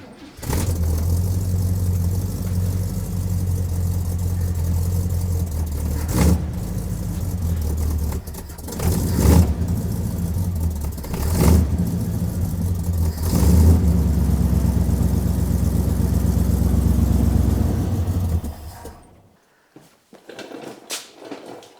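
A 1967 Buick LeSabre engine running on a freshly rebuilt carburetor, still cold without choke: a steady, loud low idle with several brief revs and clunks, then it cuts off near the end.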